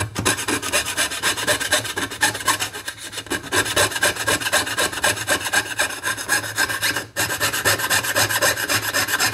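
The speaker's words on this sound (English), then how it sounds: "begin sawing the next side" A piercing saw rasps steadily through a metal spatula in fast, rhythmic back-and-forth strokes, close and continuous with one brief pause.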